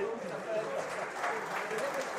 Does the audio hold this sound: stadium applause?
yes